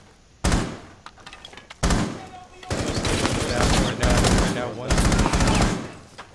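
Gunfire in Rainbow Six Siege Terrorist Hunt on the House map, several loud close bursts of rapid automatic fire with sharp cracks, separated by brief pauses.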